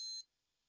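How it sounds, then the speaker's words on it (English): An ASRock B450M Steel Legend motherboard gives a single short, high-pitched POST error beep during fault diagnosis. The beep is clear and alone, then cuts off to near silence. "We still get a few beeps."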